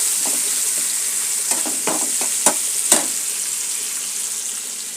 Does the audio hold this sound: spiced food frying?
yes